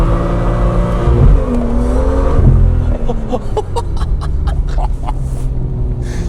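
A BMW M2 accelerates hard, its engine loud and close, revving up through the gears with a rising, surging note that dips briefly at each shift and then climbs again.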